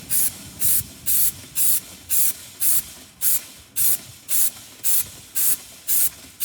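Repeated bursts of cleaning spray on a motorcycle during a wash, about a dozen short hissing sprays in a steady rhythm, close and fairly loud with brief pauses between.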